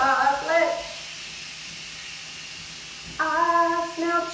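An Instant Pot quick-release valve vents steam as a steady, loud hiss between stretches of nearby talking.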